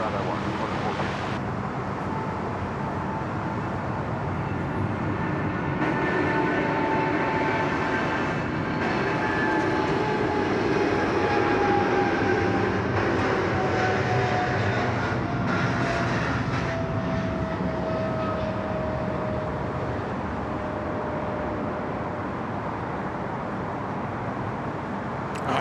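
Qantas 410 airliner landing on runway 34 left at Sydney Airport, a moderate steady engine rumble with a slowly descending whine, heard from a distance with radio chatter and voices over it.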